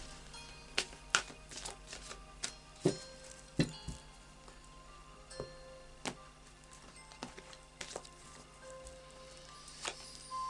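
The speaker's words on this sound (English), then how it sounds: "So I'll just do a final shuffle of the Psychic Tarot." A Psychic Tarot card deck gets shuffled by hand, giving a scattered run of soft, sharp card taps and riffling clicks at irregular intervals, close up and quiet, with no one talking.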